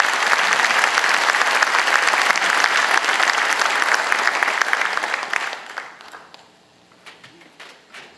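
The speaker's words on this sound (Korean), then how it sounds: "격려의 박수를 보내주시면 고맙겠습니다" Audience applause at a university board chair's inauguration ceremony, loud and sustained clapping from a large crowd for about five seconds, then tapering off into a few scattered claps.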